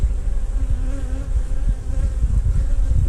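Honeybees buzz densely at the entrance of a nuc hive as foragers return carrying pollen, a close, steady hum with individual bees droning past.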